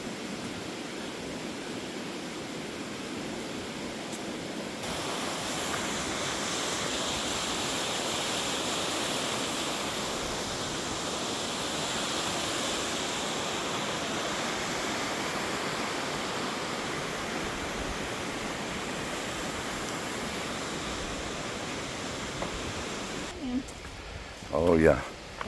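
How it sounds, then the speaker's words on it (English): White water rushes beneath a suspension bridge at Fall Creek Falls State Park in a steady, loud broadband roar that holds throughout, with a brief clatter and a voice near the end. "You can see the white water rushing underneath there."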